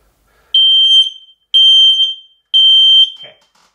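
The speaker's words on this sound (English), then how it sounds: "So that's an individual alarm test. I apologize if that's really loud" An X-Sense XS01 mini smoke alarm sounds its self-test: three loud, shrill, steady beeps about a second long each, evenly spaced, close by, with no talking.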